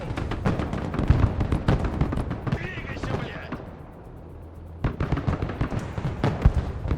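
Incoming artillery fire in the Broken Arrow video game, a dense barrage of sharp blasts and crackling impacts that briefly thins to a low rumble before erupting again, with a voice talking over it.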